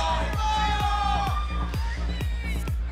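Esports arena crowd at a 2014 NA LCS Spring Split League of Legends match, Evil Geniuses vs Curse, cheering in a steady dense roar with repeated rhythmic thumps, under a commentator's excited talk.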